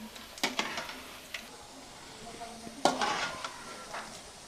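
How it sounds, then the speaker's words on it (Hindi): Methi pakode fry gently on a low flame in a pan, a faint soft sizzle broken by a few clinks and scrapes as the fritters are turned. "अब हम इसे धीमी आंच पर फ्राई करेंगे और ऊपर नीचे करते रहेंगे।"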